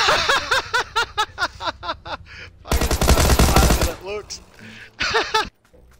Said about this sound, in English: Vikendi PD responding to reports of automatic weapon fire.